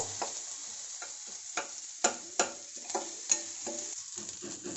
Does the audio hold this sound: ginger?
yes